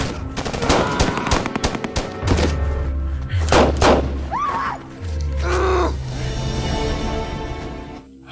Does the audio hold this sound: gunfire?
yes